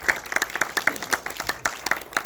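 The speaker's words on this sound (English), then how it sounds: "So please give them all a round of applause." An audience applauds sponsors at a luxury residential market presentation, a short burst of distinct, uneven hand claps from a modest crowd, fairly close.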